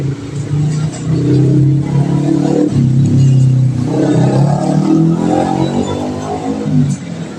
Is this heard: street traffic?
yes